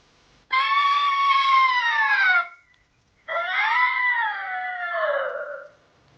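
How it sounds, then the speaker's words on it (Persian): A small wild cat howls in two long, loud, wavering wails separated by a short pause, close and unaccompanied. "گربه‌سان کوچک اما وحشی، شبها زوزه میکشه."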